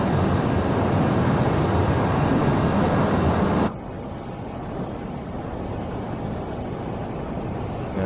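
Flysimware Learjet 35A jet climbing out after takeoff in Microsoft Flight Simulator, a steady loud broadband engine roar that drops abruptly partway through to a quieter, duller cabin rumble.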